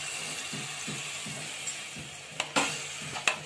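Chickpeas tipped into frying masala in a pan, a steady moderate sizzle with a few sharp scraping and clacking stirs near the end.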